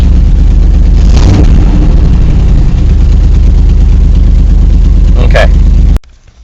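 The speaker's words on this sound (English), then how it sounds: "now your car starts" A GM car engine runs at a loud, rough idle close by after a VATS security bypass, with a brief rev or clatter partway through before cutting off abruptly near the end.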